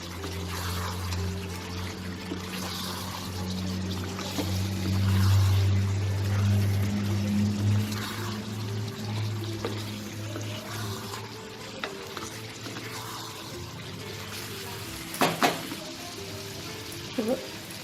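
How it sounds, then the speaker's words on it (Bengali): Spices and mutton are stirred in a pan for Bengali kosha mangsho, with a low steady sizzle, scraping stir strokes and a few sharp clinks of the utensil against the pan near the end. "এবার এই সবগুলো মশলা আবারও ভালো করে মিশিয়ে নেব।"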